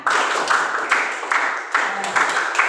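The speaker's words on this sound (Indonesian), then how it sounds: "Yuk, tepuk 1, tepuk 2, tepuk 3, tepuk tangan." A class claps hands together in a steady rhythm, with several loud, evenly spaced bursts close by and voices mixed in.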